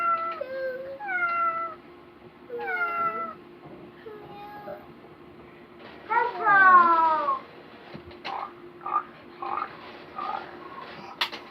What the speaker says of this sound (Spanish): El gato.